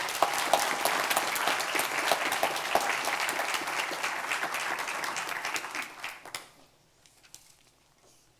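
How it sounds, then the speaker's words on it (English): Audience applause for public health champions at a county health event, a dense wash of clapping that carries for about six seconds, then thins and fades out to near quiet. "Let's give them another round of applause."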